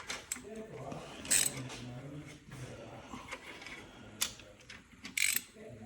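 Bolts on a BMW F10 520d N47D20C turbo being done up with a breaker bar, giving a few clicking ratchet and metallic mechanism sounds with short sharp knocks, close by and under faint background talk.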